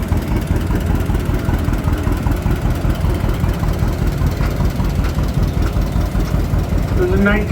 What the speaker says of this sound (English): This is a 1952 John Deere Model A, owned by Dwayne and Sharon McBride out of Hurupa Valley, driven by Dwayne.